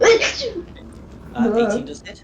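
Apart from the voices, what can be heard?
sneeze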